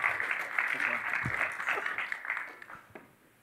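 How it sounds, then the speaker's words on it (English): Audience applause rises loudly at once, then thins and fades out over a few seconds, with a voice speaking over it. "Let's give him a round of applause."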